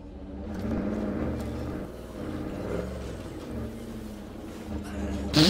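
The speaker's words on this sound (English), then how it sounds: "Oh, the car sounds beautiful." Car engine in the video game State of Decay 2, a steady low droning hum that rises and revs toward the end, heard under a continuous bed of sound with some talk mixed in.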